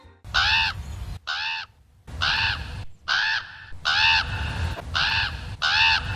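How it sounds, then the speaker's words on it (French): A crow caws loudly and repeatedly, seven harsh calls in an uneven rhythm, close by with brief pauses between them, over shots of the nuclear power plant in The Simpsons. "Dans quasiment tous les plans où l'on voit la centrale nucléaire, un corbeau peut être entendu"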